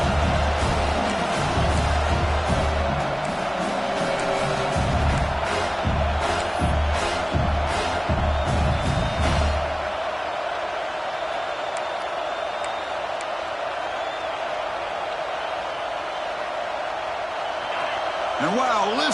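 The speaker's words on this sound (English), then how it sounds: "listen to this crowd noise. This stadium is vibrating." A packed football stadium crowd roars in a dense, sustained wall of noise that holds steady from start to finish, with a commentator talking over it.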